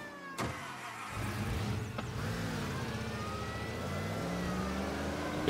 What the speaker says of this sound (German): Ich fahre ganz unauffällig sehr schnell rückwärts.